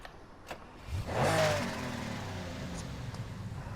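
A Lamborghini Countach in the Need for Speed Heat video game cranks and starts, its engine catching with a rising rev, then settling into a steady, fairly quiet idle rumble.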